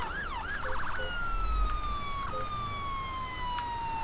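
Fire engine siren from GTA 5 with a London Fire Brigade mod, loud and close, sweeping in a quick wail and then settling into a long, slowly falling tone with a low vehicle rumble beneath, no talking.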